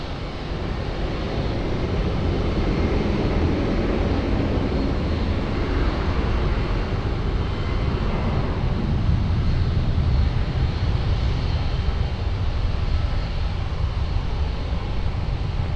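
A fixed-wing airplane taking off from runway 20 at Lisbon Airport, a steady loud roar of jet engines with wind noise that holds throughout and swells slightly midway, with no talk.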